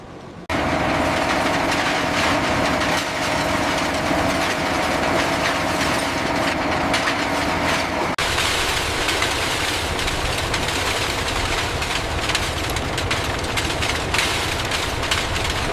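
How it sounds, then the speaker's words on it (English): Conveyor running at a bicycle recycling plant, a loud continuous rumbling and clattering machine drone that shifts in character partway through and carries on steadily without talk. "engaging the conveyor now"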